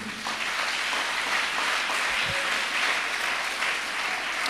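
A church congregation applauding, a dense continuous wash of clapping from many hands in a large room, steady and fairly loud throughout, with no clear talk over it.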